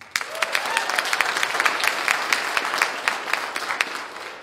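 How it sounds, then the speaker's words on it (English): A church congregation claps during a Sunday student-led service, producing a dense, steady wash of many hands applauding together with sharp individual claps standing out for the full few seconds. "would you just please clap your hands?"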